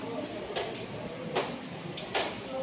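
Single claps in a classroom counting clap game during an Indonesian-language lesson, four or five sharp, spaced claps ringing out over a steady murmur of voices.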